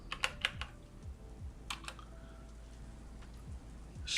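Keys clack on a Moonlander Mark 1 split keyboard in short, light bursts of taps with pauses between them, close and fairly quiet, with no talking.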